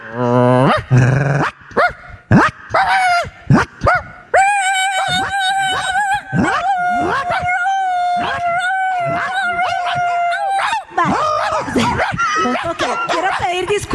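A group of people imitate dogs with their voices, each taking a different bark, howl or growl, overlapping in a loud, rowdy chorus of yelps and long howls that runs throughout.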